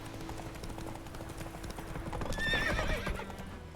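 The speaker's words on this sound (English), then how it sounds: "Whoa there, Roach." Horse in The Witcher 3 video game trotting with steady, close clip-clop hoofbeats, then letting out a loud, shrill whinny partway through over the ongoing hooves.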